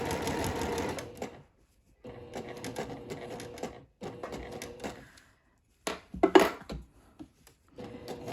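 Sewing machine stitching a French seam side pocket and back stitching at a high stress point, heard as close, steady mechanical whirring in several short runs separated by brief pauses.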